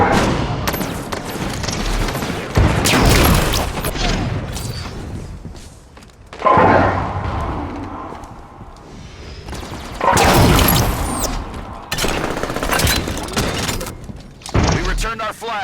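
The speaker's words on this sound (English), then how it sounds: "Sniper fire." Sniper and weapon fire from a Halo 5: Guardians capture-the-flag multiplayer match on the Sleipnir map, heard as loud, repeated bursts of shots and booming impacts spread through the clip, with an announcer voice speaking between them.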